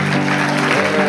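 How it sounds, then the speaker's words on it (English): A church congregation applauds in a continuous, fairly loud burst, with sustained musical tones running underneath the clapping. "can we give him a round of applause with our church?"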